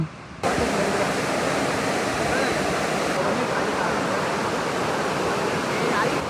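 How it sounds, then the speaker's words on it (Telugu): A small river channel runs near Kalu Waterfall in Malshej Ghat, giving a loud, steady rush of water that fills the scene, with a brief quieter moment at the very start. "ఇక్కడ నుంచి రివర్ ఉంది, చిన్న కాలువ ఇది"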